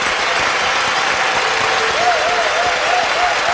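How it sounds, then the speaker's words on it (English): A French crowd at a figure skating free dance event applauds with a dense, sustained roar of clapping, heard up close and filling the whole stretch. "And a big reaction from this French crowd."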